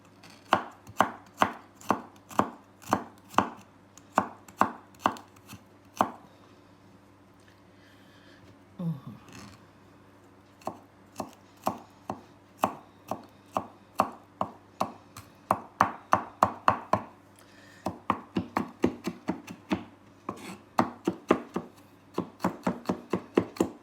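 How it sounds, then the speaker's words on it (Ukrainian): Garlic being finely chopped with a knife on a board, a steady run of crisp, close knife taps in quick bursts, with a short pause midway before the rapid chopping resumes. "Тепер нарізаємо чесночок. Також дрібненько."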